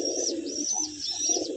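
Simi-coloured fancy pigeons coo in soft, rolling calls close by. The cooing is repeated and overlaps, and no one speaks.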